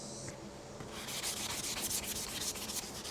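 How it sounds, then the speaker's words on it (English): Sandpaper rubs in quick back-and-forth strokes over the rear fender of a Suzuki RV125 motorcycle, a close, dry, rhythmic scratching that runs on with no talk. "let's just get at sanding it up"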